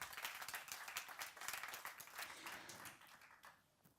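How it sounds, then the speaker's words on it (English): An audience at a forum on mobility and creativity applauds, the dense clapping heard at a moderate distance and tapering off toward the end. "So, please another applause for Gabor Mondik."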